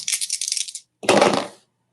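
Craps dice tossed onto a casino-style table, clattering and tumbling in two quick bursts: a rattling shake first, then a louder strike and roll that fades out, with no voices.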